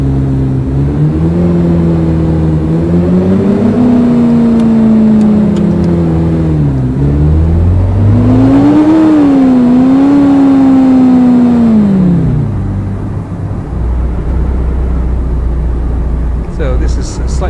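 A car engine in Car Driving Simulator revs and accelerates through gears, its pitch climbing, dropping at shifts and climbing again, loud and steady, settling to a low idle-like rumble near the end.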